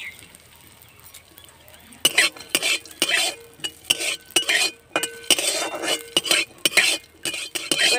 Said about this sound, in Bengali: এবার আমি কাজু আর কিশমিশটা ভেজে নেব।